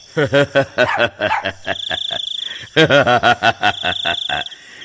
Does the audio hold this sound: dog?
yes